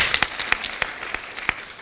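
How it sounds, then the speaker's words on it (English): An audience at a university debate competition applauds faculty and staff, a thin spread of clapping with a few sharp individual claps standing out, fairly close and lasting under two seconds. "a round of applause for this dedicated group of faculty and staff"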